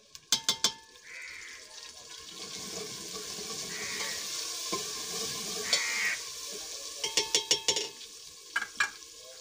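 Ground masala fries with browned onions in a pan, a moderate sizzle broken by clusters of sharp spoon scrapes and knocks against the pot at the start and end.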